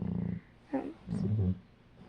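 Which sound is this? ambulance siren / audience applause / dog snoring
dog snoring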